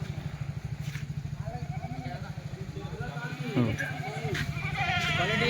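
Kathiawadi goats bleat repeatedly against a steady engine rumble, several wavering calls overlapping near and farther off, with people talking in the background.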